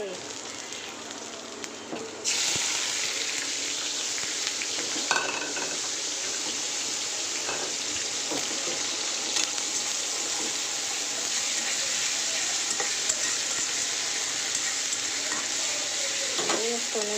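Dal cooks in a pan with a steady sizzling hiss that jumps louder after a couple of seconds, punctuated by scrapes and clanks of stirring, with occasional speech in the background.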